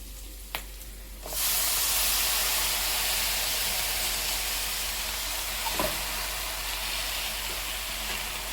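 Hadga (hummingbird tree) flowers tossed into a hot pan with turmeric for a stir-fried vegetable dish, setting off a loud, steady sizzle and hiss that starts abruptly after a short quiet moment and continues evenly.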